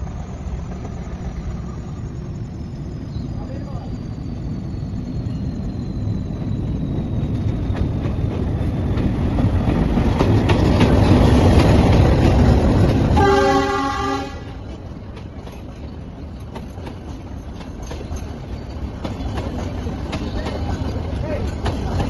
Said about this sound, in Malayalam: നമ്മൾ കുന്നിൻ്റെ മുകളിൽ നിന്നിട്ട് ഊട്ടിയുടെ പൈതൃക ട്രെയിൻ വരുന്നത് കാത്തു നിൽക്കുകയാണ്